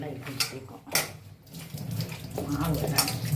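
Water is poured and splashes in a kitchen while bullet pakoda is being made, coming in uneven gushes and trickles at close range, with a voice talking in between.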